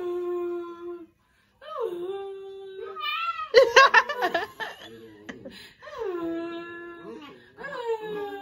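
A dog whines and yowls in drawn-out, cat-like tones instead of barking, with repeated rising and falling cries and pauses, while a person laughs and makes short vocal sounds alongside it up close.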